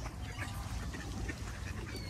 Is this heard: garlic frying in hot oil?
no